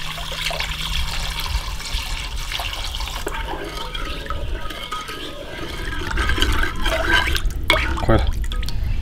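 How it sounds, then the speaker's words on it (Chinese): Clear water is poured into a seasoning mix of salt, pepper, soy sauce and sugar for steamed soft-shelled turtles, a steady close splashing and trickling with some drips that grows a little louder toward the end. "加点清水"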